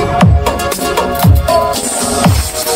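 Loud music blasting from a Sound Logic SL15A 15-inch speaker at a sound equipment shop, with heavy bass hits recurring about once a second beneath bright, busy upper layers, no voices over it.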